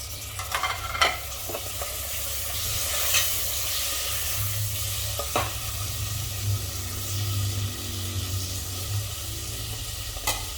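Chopped tomatoes, turmeric and spices are stirred in a hot pan, a steady sizzle and hiss with a few scraping spoon knocks now and then, and no voices.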